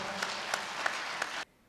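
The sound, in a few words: audience applause for brand ambassadors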